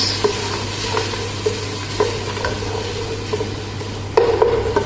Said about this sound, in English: now we have to put our this onion, okay, and have to saute like this, mix.